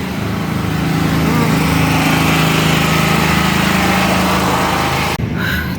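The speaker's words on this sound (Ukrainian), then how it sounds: "Хочу зараз піти там, де не так чути генератори" Power generators running in a city street during a power outage, a loud steady engine drone that cuts off sharply near the end.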